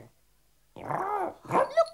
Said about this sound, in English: Go away, Bumpy Dog, or I'll rub you out.